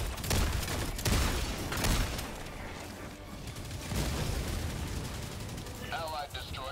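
A cannon tower in a video game fires heavy booming shots amid a dense stretch of battle noise, with a voice talking over parts of it.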